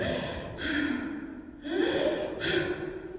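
During CPR training, a person imitates gasping, labored breathing: three raspy, drawn-out gasps close up, with no other sounds around them.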